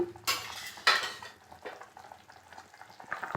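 Fish pieces and potatoes go into a pot of boiling curry with two sharp clattering splashes near the start, followed by softer scraping and bubbling stirs that fade and return.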